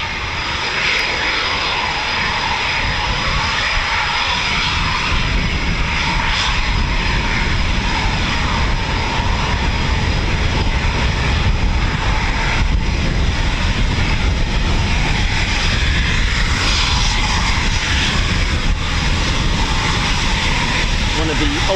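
A Eurofighter Typhoon FGR4 jet at RAF Coningsby gives a loud, continuous roar with a broad rushing hiss that swells and stays strong throughout.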